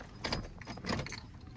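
Keys jangle inside a 2008 Chevrolet Silverado 1500 pickup cab, two short bursts of metallic clinking close by, with no talk.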